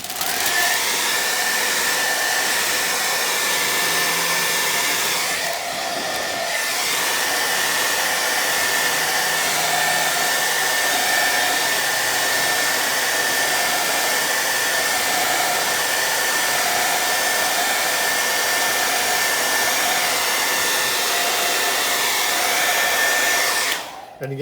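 A hairdryer blows hot air onto old window tint on a car window, a steady loud whirring hum held for the whole stretch, with a brief dip in the middle and a click at the end as it shuts off.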